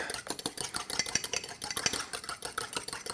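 A fork stirs quickly in a cup, producing a fast, even ticking and scraping against the sides, close and fairly soft, continuing steadily with no talking.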